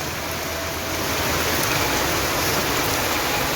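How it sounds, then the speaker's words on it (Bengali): Heavy rain falls at night in strong wind, a dense, steady, close hiss that swells slightly and never breaks. No voices are heard. "কত স্পিডে বৃষ্টি পড়তেছে দেখছেন। আর কিরকম বাতাস করতেছে, বাতাসটা বেশি করতেছে অনেক।"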